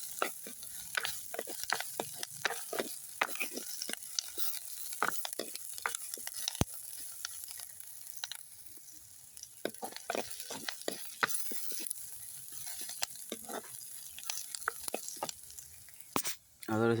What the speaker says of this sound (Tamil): கருவேப்பமிலையும் போட்டு வடிவாக கிண்டுவோம்